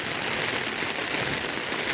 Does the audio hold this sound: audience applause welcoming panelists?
no